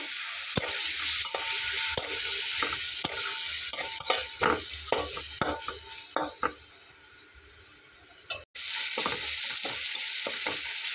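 Spices with red chilli powder and turmeric being stir-fried in a pan for dahi bhindi, steady sizzling under repeated sharp scraping strokes of a spatula, briefly cut off near the end before the sizzle resumes.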